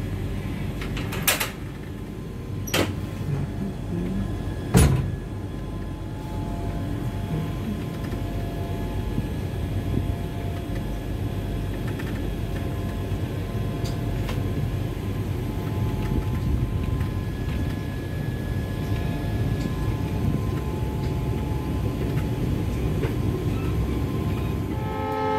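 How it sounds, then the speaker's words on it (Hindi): Indian express train on the Delhi–Jodhpur route pulling away from a station after a long halt, a steady low rumble of rolling wheels and carriages building, with a few sharp clanks and knocks early on. "और फाइनली ट्रेन चल पड़ी है"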